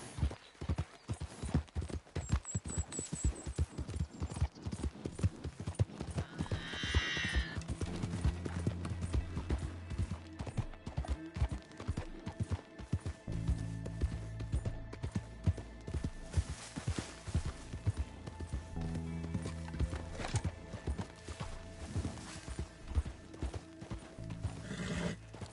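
Horse hooves clip-clopping in a PS4 video game, a steady rhythmic clatter throughout with occasional whinnies over layered game music and effects.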